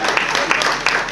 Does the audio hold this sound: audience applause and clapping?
yes